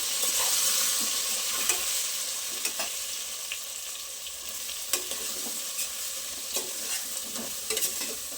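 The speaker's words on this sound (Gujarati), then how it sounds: "હવે આપણે રીંગણા અને બટેટા ઉમેરી દઈશું। હવે બધું સરસ મિક્સ કરી લઈશું।" Brinjal and potatoes frying in oil, a steady sizzle with the spoon stirring through them and scraping the pan at intervals, close and fairly loud.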